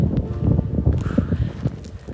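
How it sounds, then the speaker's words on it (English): Gusty mountain wind buffets the microphone at Goat Peak Lookout, a steady rumbling roar with rustling underneath and faint footsteps, heard with no talking. "It's very windy up here."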